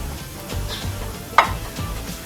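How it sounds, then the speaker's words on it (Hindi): Gulab jamun frying gently in oil over a low flame, giving a soft steady sizzle with light stirring and one sharp utensil clink partway through. "इस तरह हल्की हल्की फ्लेम पे आप लोगों ने पकाना है इनको"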